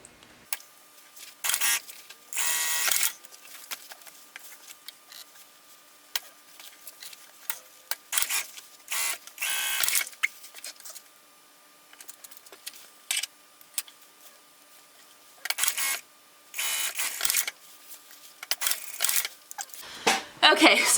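A sewing machine fitted with a Teflon foot stitches leather shoulder seams in short, intermittent bursts of rapid clatter separated by quiet pauses.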